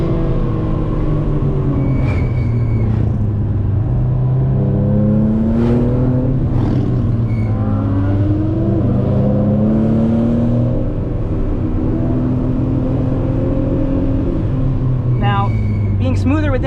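A BMW Z4 M Coupe engine revs and surges repeatedly, pitch climbing and falling with each push, loud and close, with a few louder bursts near the end.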